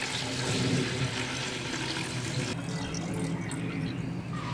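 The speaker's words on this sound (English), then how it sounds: "So I'm going to decant it and pour it here" Ginger starch water decanted and poured from a container, a continuous close splashing trickle of liquid that holds steady, then softens slightly partway through.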